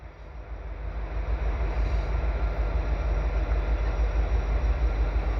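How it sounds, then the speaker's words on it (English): A freight train hauled by several locomotives rolls past at Turcot, a steady low rumble that swells over the first seconds and then holds at an even, moderately loud level, with no voices. "Lots of locomotives on that."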